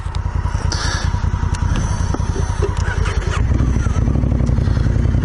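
A motorcycle ridden on an Australian road trip, its engine holding a steady, loud, low rumble that rises slightly toward the end, with faint bird calls in the background and no talking.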